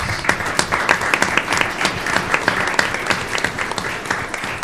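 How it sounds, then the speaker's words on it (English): An audience at a school district governing board meeting applauds with steady, moderately loud clapping from many hands, sustained evenly with no talk over it. "So let's give them a round of applause."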